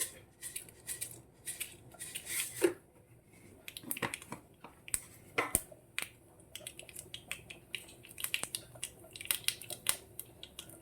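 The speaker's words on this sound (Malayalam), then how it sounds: "എണ്ണ ചൂടായി കടുക് ഇട്ട് കൊടുക്കാവേ." Sharp little pops and crackles burst irregularly from hot oil, close and fairly quiet, scattered across the whole stretch with no one talking.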